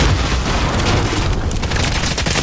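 Dense, loud gunfire in the battle royale game Call of Duty Warzone during a trios match, a continuous roar of shots and booms filling the whole moment with no break.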